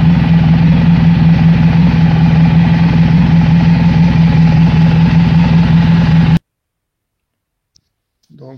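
A Honda ST 1100 Pan European motorcycle engine idles steadily and loudly right after starting, a close, even low rumble that cuts off abruptly near the end before a brief faint sound.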